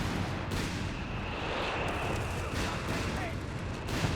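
Artillery barrage in the Company of Heroes 3 video game during a 1v1 match: dense, continuous rumbling explosions and booming impacts layered over one another, loud and sustained, with a few sharper blasts standing out.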